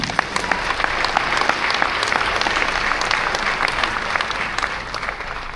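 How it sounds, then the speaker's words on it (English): A crowd at a youth politics event in Ghana applauds for Ghanaian women, dense steady clapping filling the whole stretch, loud and close with no talk over it. "Let's clap for Ghanaian women."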